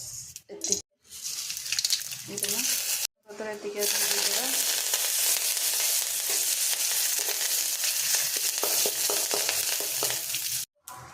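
Spices for curd rice crackle and sizzle in hot oil, a loud, steady frying hiss broken by a couple of brief silences near the start and end.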